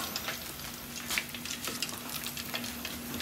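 Food fries in a pan with a continuous crackling sizzle, punctuated by small pops and spits, at moderate volume with no clear talking.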